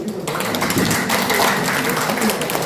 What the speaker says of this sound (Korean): 새로운 회장단에게 큰 박수를 보냅니다.